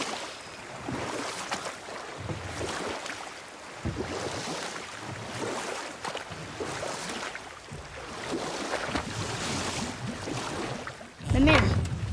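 Oars dipping and water lapping around a small rowboat in God of War, a steady wash under continuous talk, with a louder splash near the end.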